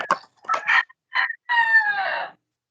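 A rooster crows close by, a broken series of strained calls ending in one long drawn-out crow, then silence.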